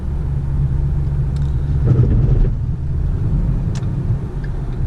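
A 2011 Ford Mustang GT 5.0 V8 with an automatic transmission idles nearby while warming up, a steady deep burbling rumble with a slight swell in the middle, and no talking.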